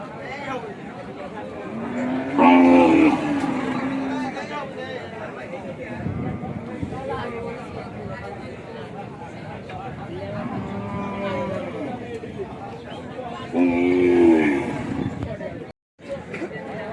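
Sahiwal cows moo loudly at a busy cattle market, with two long bellowing calls near the start and end. A crowd murmurs throughout and people talk between the calls.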